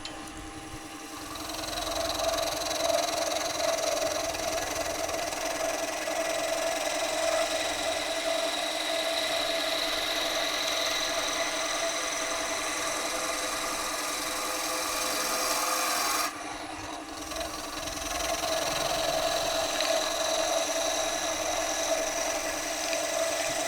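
A scroll saw cutting a spiral in wood gives a steady, close buzzing hum with a fast reciprocating rasp, running continuously and briefly dipping before carrying on.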